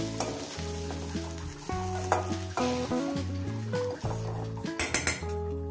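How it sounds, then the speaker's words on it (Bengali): Dried fish sizzles as it fries in oil at an outdoor cooking spot beside a river, with a steady hiss under loud background music and a few pan clinks. "মাছগুলোকে আমি সুন্দর করে ভেজে নিয়েছি"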